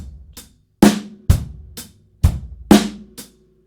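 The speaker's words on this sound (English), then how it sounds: "we keep the backbeat on beats 2 and 4 on the snare drum" A drum set plays a simple beat alone: snare backbeat on two and four, bass drum on the one and offbeats, and lighter hi-hat eighth notes, with sharp, close, distinct hits over a few bars.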